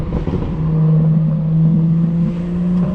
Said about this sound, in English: this is nice roads to be driving on